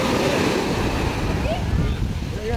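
Heavy ocean surf rolls in at a beach where people are fishing, a loud continuous wash of breaking waves mixed with buffeting wind noise on the microphone.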